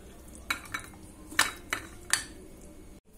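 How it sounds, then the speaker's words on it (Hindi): A spoon clinks and scrapes against metal dishes as spicy chickpea-potato chaat with tamarind chutney is transferred into a bowl, giving a series of sharp, irregular, close clatters. "तो अब इसे मैं एक बर्तन में करूंगी ट्रांसफर"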